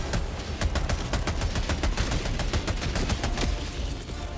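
Gatling sentry in Helldivers 2 rattling off a long, rapid stream of evenly spaced shots, a dense loud mechanical burst that continues steadily throughout without talk.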